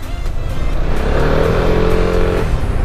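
The Piaggio MP3 500 Sport scooter's engine roars loudly and close by on a winding road, holding a steady droning tone that rises slightly in pitch before easing off.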